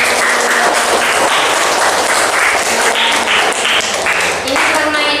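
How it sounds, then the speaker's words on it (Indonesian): Students at a teacher-training session clap together as an ice-breaker, a dense, steady wash of rapid hand claps filling the room close by, with voices mixed faintly underneath. "Tepuk tangan dulu."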